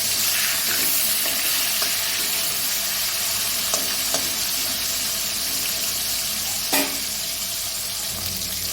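Aar fish pieces fry in hot oil, a continuous close, loud sizzle with faint crackles and a brief scrape or clatter of utensils partway through, no voices.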